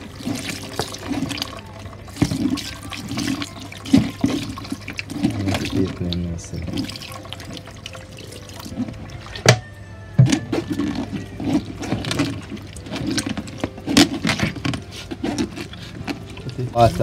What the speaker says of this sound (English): Add water to get more juice out of the soursop.